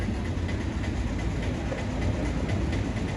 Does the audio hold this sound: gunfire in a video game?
no